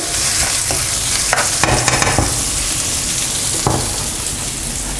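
Onions frying in oil in a pan for chickpea biryani, a steady loud sizzle with a few sharp scrapes and clatters of stirring scattered through, no voices.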